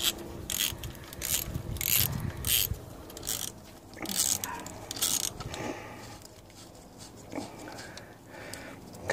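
A ratchet socket wrench, fitted with a 13mm socket, turning a fastener during a thermostat change on an Audi TT 1.8T 225, heard as bursts of close metallic clicking with pauses between them and faint handling noise.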